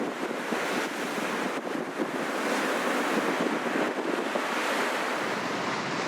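Ocean waves surge and break steadily on a big beach near Hawks Nest, a loud continuous roar of surf with wind buffeting the microphone, and no voices.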